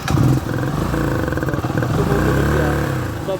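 Kawasaki Rouser NS125 motorcycle from 2020 running close by with an uneven, rough idle and misfires from an intake fault, a steady mid-pitched engine drone with slight wavering throughout.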